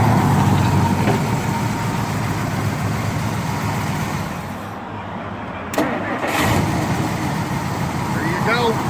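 A 1962 Studebaker Lark V8 wagon engine runs, dips quiet as it is shut off, then cranks and catches again, settling back into a steady close idle with brief voice sounds.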